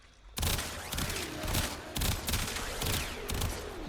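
A Kuva Hind rifle in Warframe firing in burst mode, a sharp loud onset followed by repeated clusters of rapid shots spaced roughly every half second, close and punchy with no talking.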